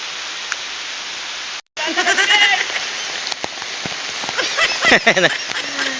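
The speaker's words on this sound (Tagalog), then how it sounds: "Tapos ngayon umuulan na." Rain pattering steadily on leaves in a forest during a fishing outing, a continuous hiss beneath intermittent voices talking nearby.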